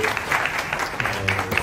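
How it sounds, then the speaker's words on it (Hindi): Audience applause after a Holi song performance, a short dense burst of clapping from a crowd, fairly loud and close. "रसिका जी और दोनों संगीतकारों अनुप भाई और रचना की जोरदार तालियों से उनका साधुवाद प्रकट करें।"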